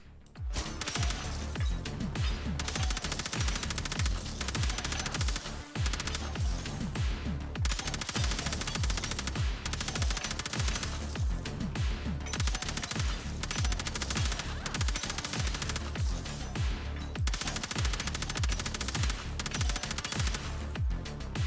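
A rapid-firing gun in the Death Must Die video game blasts nonstop, a loud, dense stream of shots with barely any gaps, overlaid with game action and little talk.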